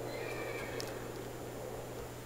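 A horse whinnies in the Minecraft Technic Pack video game, a short, faint neigh rising briefly over a quiet, steady background hum.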